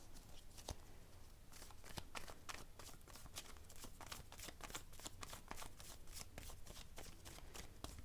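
Tarot cards shuffled by hand in a steady run of crisp riffling flicks and slaps, close and continuous for the full stretch, with no talk over it.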